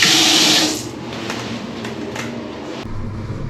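A hotel bathroom tap gushes loudly for about half a second, then cuts back to a quieter hiss of running water over a low room hum, with small clicks near the end.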